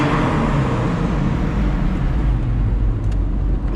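Porsche 996 C2 Cabriolet, a 2000 model, driving through a tunnel with its exhaust droning loud and close, a steady full-bodied roar that echoes off the tunnel walls.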